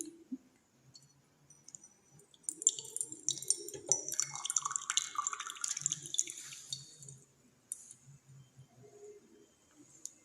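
Water splashing and dripping as a stone is lowered into a filled container in a displacement experiment, a burst of close trickling and drips in the middle with faint scattered drips before and after.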